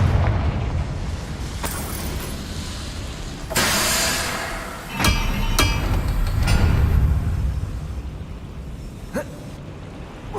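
Confringo blasting spells in Hogwarts Legacy go off as a series of loud, sharp explosive bursts with rumbling tails, spaced a second or two apart over low background noise.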